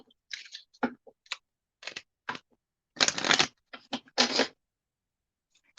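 Moonology Oracle cards shuffled by hand in separate bursts of dry papery rustling and snapping, close and moderately loud, with quiet gaps between the bursts.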